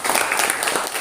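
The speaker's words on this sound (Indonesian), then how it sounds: "Oh, tepuk tangan dulu." Classroom of students applauding during a group question-and-answer lesson, a brief, dense burst of clapping that fills the whole moment at steady loudness.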